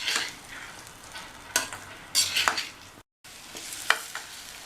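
Boiled baby potatoes being stirred into kuruma gravy frying in a pan: scraping, stirring strokes come in a few distinct bursts over a soft, steady sizzle, with a brief dropout midway and no voices.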